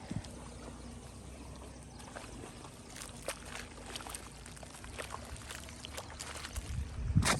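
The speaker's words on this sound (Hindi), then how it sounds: "तो अभी इधर पानी डालते हैं, जो झाग है ना वो इधर आ जाएगी" Water runs steadily into a rice paddy field, carrying foam along with it: a quiet, continuous pouring and trickling wash with scattered small splashes that grows slightly louder toward the end.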